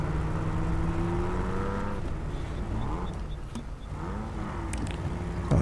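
Jeep Wrangler Rubicon engine in SnowRunner, a steady, throaty exhaust drone that rises and falls as the engine revs, with a brief louder burst at the very end; no talking.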